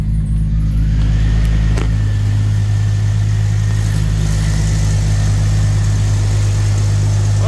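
A 1999 Jeep Cherokee XJ engine idling steadily with a slight exhaust leak, a loud, continuous low rumble holding even throughout with no talk.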